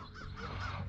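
A single crow caws once, a short harsh call heard fairly close over low background noise.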